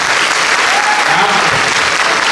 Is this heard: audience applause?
yes